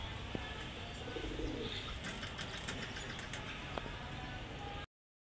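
Large pigeons being shown for sale coo softly, with low murmuring calls and a few chirps over a steady background hiss, fairly quiet and close.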